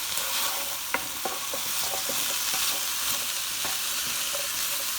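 Onion and vegetables stir-fry for a broccoli beef dish, a constant close sizzle broken by light clicks and knocks of a utensil against the pan.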